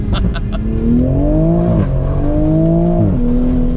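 A tuned 2020 Toyota Supra accelerates hard, its engine note climbing steadily through two gear pulls with a brief dip at each shift, loud and close throughout.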